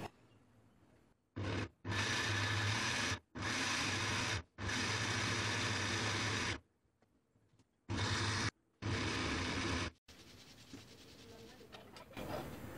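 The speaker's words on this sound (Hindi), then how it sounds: "अब हम इसको ग्राइंड कर लेंगे।" A mixer grinder whirs loudly grinding boiled mangoes with water in several bursts of a few seconds each, stopping and restarting, with quiet gaps between the runs.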